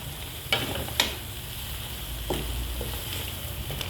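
Pancit noodles with fish sauce and black pepper being stirred in a pan: a steady frying sizzle with a few sharp scrapes and clacks of the utensil against the pan, fairly close.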